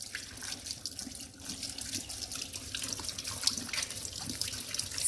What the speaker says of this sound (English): turn on the cold tap and rinse your raspberries